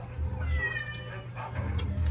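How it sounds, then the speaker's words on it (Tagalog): Cats under a table meow faintly a few times amid low background noise and clatter, somewhat distant. "Ang musika namin dito, mga pusa. Nasa ilalim ng lamesa."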